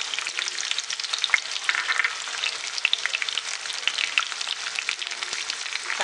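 Whole spices, green chilli and tomato sizzle vigorously in hot oil, making a dense, loud, continuous crackling hiss with small pops throughout.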